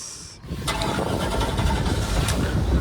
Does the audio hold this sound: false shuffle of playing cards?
no